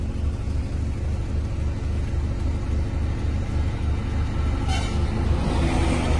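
A steady road rumble and engine drone from an Ambassador car cruising on a highway while it overtakes a lorry, with the noise continuous and close throughout.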